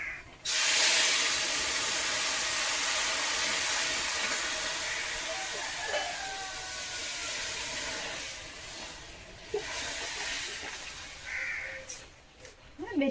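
Lentils tipped into a very hot pan with scorched cumin seeds burst into a loud, steady sizzling hiss that runs on for many seconds, slowly easing and flickering, with a few faint background sounds.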